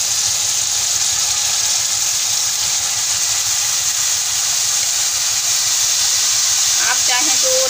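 Fenugreek leaves hit a hot pan for methi aloo and give off a loud, steady hiss of steam that holds evenly throughout, with a few faint clinks near the end.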